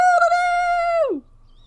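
A rooster in Red Dead Online crows one long, loud, clear call close by, holding steady before sliding down and cutting off, leaving quiet background afterward.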